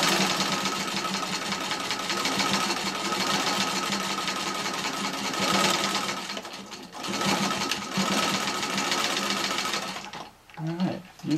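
A Singer Model 15-91 sewing machine stitches a patchwork flat cap, running in a fast, steady mechanical whirr with brief pauses and restarts near the end, while a person speaks over it.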